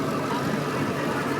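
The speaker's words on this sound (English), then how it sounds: "Pure tractor." Vintage tractor engines rumbling together at an agricultural show parade, a steady dense low-pitched drone with no clear breaks, moderately loud and sustained throughout.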